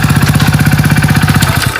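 A small Activa scooter engine runs steadily up close, a loud, even idle-like putter with a regular pulsing beat that holds throughout.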